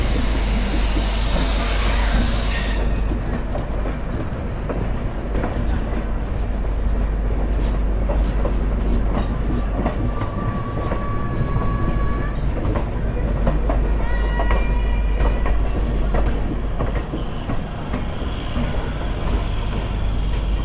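The Secunderabad Garib Rath, train 12736 from Yesvantpur to Charlapalli, rumbles past loudly on the rails in a steady roar, with faint rhythmic clatter and a thin squeal of wheels running under it.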